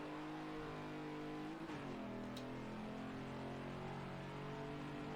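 A Ford Mach 1 on track at Watkins Glen pulls hard through the gears, its engine droning steadily with a pitch that dips at a shift and then climbs again, heard from inside the car.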